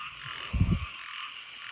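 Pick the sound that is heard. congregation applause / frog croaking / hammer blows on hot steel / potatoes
frog croaking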